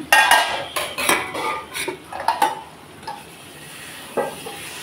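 A pot lid comes off a prawn and taro stolon curry with several sharp metal clanks and scrapes close by, which thin out into a quiet simmer and one last knock near the end. No one speaks.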